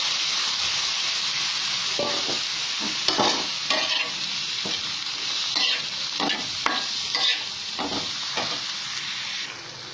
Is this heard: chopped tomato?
yes